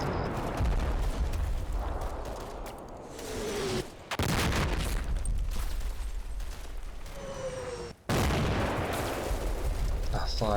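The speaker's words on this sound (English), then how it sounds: "The mortar barrage is quickly redirected from Objective Lake to the Dietrich line." A mortar barrage in the Combat Mission game, Operation Epsom, shows as dense, rumbling explosions and crackling gunfire. Two brief silent gaps break the din.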